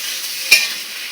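Ground cumin and coriander powder sautéing in a pan for a Bengali small-fish curry: a steady soft sizzle with one brief louder stir or scrape near the middle, close and alone.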